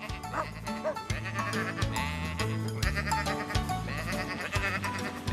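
Sheep bleat repeatedly over a steady musical background, several overlapping calls spread across the clip, fairly close and clear.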